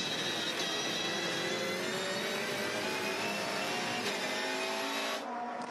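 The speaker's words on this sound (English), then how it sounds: "Great sound of the Volvo S60 leading the way." A Volvo S60 V8 Supercar engine screams at high revs during a race at Albert Park, a loud continuous whine from the track that holds steady before easing off at the end.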